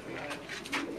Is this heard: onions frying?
no